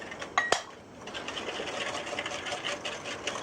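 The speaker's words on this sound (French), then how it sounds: "egg yolks and sugar are combined and will be beaten until pale yellow" Egg yolks and sugar are beaten together in a bowl with a steady, continuous whirring, a couple of sharp clinks near the start, with no talk.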